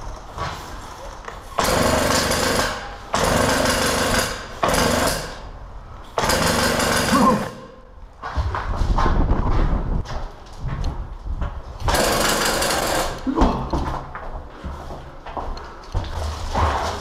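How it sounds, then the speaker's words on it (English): A homemade pressurized air-powered airsoft minigun with motor-driven barrel rotation fires in loud, rapid buzzing bursts of one to two seconds, separated by short pauses, with rumbling handling noise in between. "this is a pressurized air-powered minigun that uses an electric motor to drive the feed and barrel rotation system"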